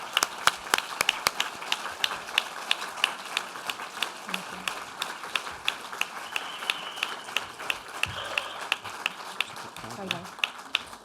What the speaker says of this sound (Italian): invito il pubblico a fare un grandissimo applauso